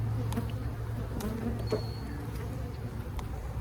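Honey bees buzzing around an open hive during an inspection, a continuous low drone from many insects close to the microphone, with faint clicks over it.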